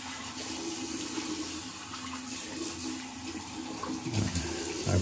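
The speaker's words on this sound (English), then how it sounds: "let's rinse everything off. There's still soap coming off my tiny little brush." Water runs steadily from a tap while soap is rinsed off a small shaving brush, a continuous close hiss with a few louder splashes near the end.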